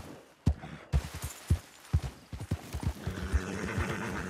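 Horse hooves clip-clop in a steady rhythm while a horse neighs and whinnies toward the end, in the video game Red Dead Redemption 2, up close and clear.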